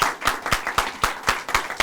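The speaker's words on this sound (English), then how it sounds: "Can we give them a big round of applause?" A small audience at a school press conference applauds students, clapping in an even rhythm of sharp, close claps about four per second.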